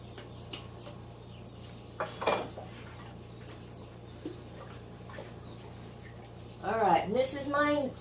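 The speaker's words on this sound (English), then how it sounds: "Stir all that up." Barbecue sauce ingredients, including mustard, paprika, liquid smoke and salt, are stirred in a large stock pot, with faint scattered clinks and scrapes of a utensil against the metal and a voice near the end.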